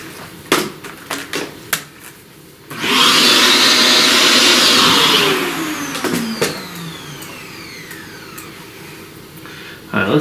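A small vacuum cleaner sucks pastel dust off a flower drawing, switching on abruptly with a loud steady whine for about three seconds before winding down, preceded and followed by soft tapping and handling noises.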